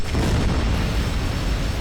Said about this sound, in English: More and more explosions.